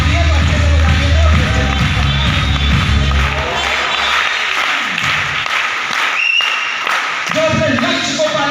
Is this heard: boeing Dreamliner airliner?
no